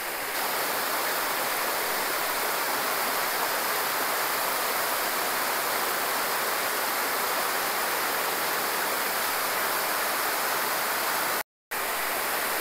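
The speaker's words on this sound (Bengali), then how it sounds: "জল পড়ছে" Water pours down at a waterfall in a dense, continuous rushing roar, loud and steady throughout with one very brief cut near the end, and no voices.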